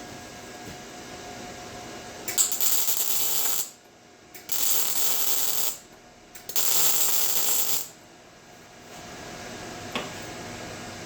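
MIG welder with the wire speed turned down to 250, three crisp crackling bursts of arc lasting about one and a half to two seconds each, separated by quiet pauses, close and steady.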